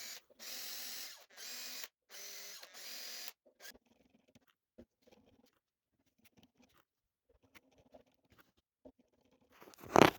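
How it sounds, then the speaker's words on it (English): A power drill whirs in four short, loud bursts through wood while building an acoustic guitar, followed by quiet scattered taps and handling noises. "I want to drill through."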